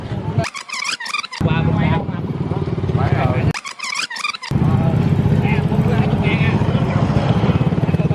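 Motorbike taxis ride close alongside on a road at the Cambodia–Vietnam border, their engines droning loud and steady under a man's speech, with brief breaks in the sound.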